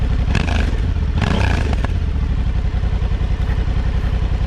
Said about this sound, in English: Honda made the 1084cc parallel twin sound not too dissimilar to a V-twin